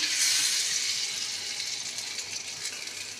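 Spice-rinse water poured into a pan of cooked-down chicken, making a steady watery gush that is loudest at the start and slowly eases, with no talking.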